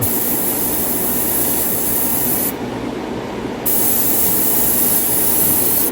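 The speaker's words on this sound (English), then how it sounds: "so I'm just spraying a light grease" Airbrush misting a light coat of grease over a 3D printed figure, a steady close hiss throughout with a loud fan running, briefly dipping midway.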